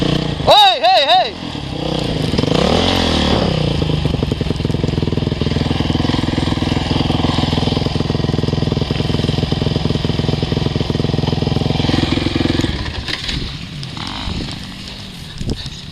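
A motocross motorcycle engine idles and revs in a field, with a sharp rev at the start, then a steady loud buzzing drone that fades near the end, while people shout urgently over it.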